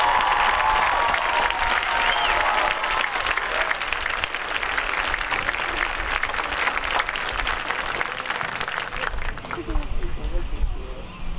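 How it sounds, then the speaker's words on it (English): Graduation audience at a 2019 high school ceremony clapping steadily in dense, sustained applause for a row of graduates, with crowd murmur mixed in and the clapping staying loud throughout before easing slightly at the end. "Let's have a round of applause for our first row of graduates."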